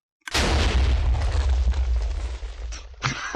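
Pirate ship cannon fire in a multiplayer naval video game: one loud booming blast that rolls and decays over a few seconds, then a sharper burst near the end.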